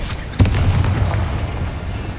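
Incendio fire spell blast in Hogwarts Legacy: a single sudden booming burst with a deep whoosh, fading into a rumbling low tail over about two seconds.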